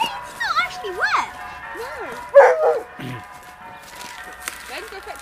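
An old sled husky dog on the ice by a frozen river makes a run of wavering yips, howl-like whines and barks, with a louder burst midway and quieter calls trailing off.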